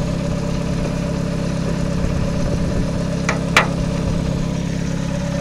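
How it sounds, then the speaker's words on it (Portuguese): A Volkswagen Gol Quadrado's CHT engine idles steadily with a low, even hum, close by, with two brief clicks partway through. "Olha essa marcha lenta, o motor parado"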